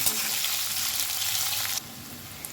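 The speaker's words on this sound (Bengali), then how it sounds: "কেটে রাখা পেঁয়াজ গ্যাসের ফ্লেমটা একদম লোতে করে পেঁয়াজটা খুব সুন্দর করে লাল করে ভেজে নেব" Chopped onion frying on a low gas flame gives a close, steady sizzle that drops sharply to a much quieter hiss near the end.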